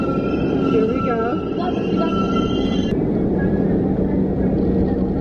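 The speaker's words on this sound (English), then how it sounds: "But yes, we're taking the subway." A subway train rumbles along with screeching wheel tones that fade partway through, a loud, steady roar throughout.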